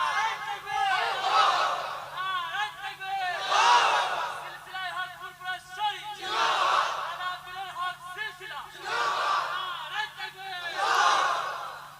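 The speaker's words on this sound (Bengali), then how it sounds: "তাকবীর মারো দেখি।" Large crowd at a Bangladeshi waz religious gathering shouting takbir in unison, five loud, rhythmic group roars rising and fading with brief gaps between them, carried over a steady low hum.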